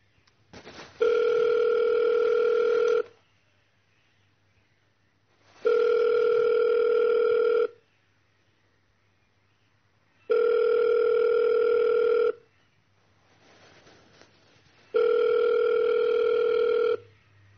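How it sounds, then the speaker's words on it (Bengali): A telephone ringback tone repeats four times, with long even beeps separated by pauses, clear and steady over a faint background hum, and the call goes unanswered. "ফোন বেজে গেল"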